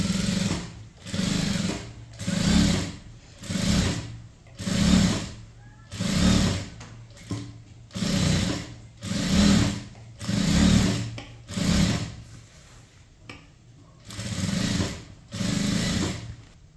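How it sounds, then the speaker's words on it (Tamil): A sewing machine stitches along the edge of a blouse lining in rhythmic bursts, about a dozen short runs of close, loud motor whirring separated by brief stops. "இந்த லைனிங் அப்படியே மேலே தள்ளிட்டு இந்த ஓரமாக ஒரு பதிச்சு தையல் போடுங்க."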